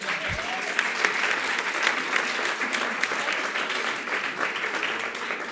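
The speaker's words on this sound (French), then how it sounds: "Donc vous pouvez vous applaudir, n'est-ce pas ?" An audience at an eloquence contest applauds itself, a dense, even wash of clapping that holds steady throughout with a few sharper claps standing out.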